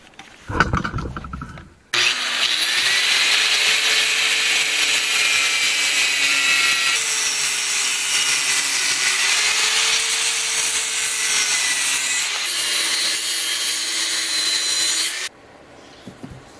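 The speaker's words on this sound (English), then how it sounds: "so now I'm going to cut it in half and use my angle grinder with a masonry" An angle grinder with a masonry cutoff wheel cuts through stone for a rock carving, giving a loud, steady, high-pitched whine with a grinding rasp. It runs for about thirteen seconds with slight dips in pitch, then stops abruptly.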